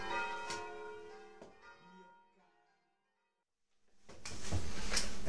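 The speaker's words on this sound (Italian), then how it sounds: "mai mettersi di domenica in orario di messa a fare video, perché suonano le campane" Church bells ring on a Sunday during mass time, first as several clanging strikes that fade into near silence, then returning loud and dense with overlapping peals.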